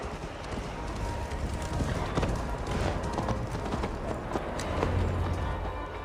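A horse gallops in Assassin's Creed Valhalla, rapid rhythmic hoofbeats under loud, continuous clattering and movement noise.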